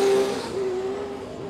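An 1800-horsepower Nissan R34 GTR race car with a turbo 400 transmission runs on track, a steady loud engine drone holding a sustained tone that fades slightly as it moves, with no talk.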